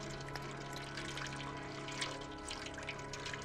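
A cat drinks water in the video game Stray, a soft, continuous trickling and lapping sound at low volume over a steady background hum.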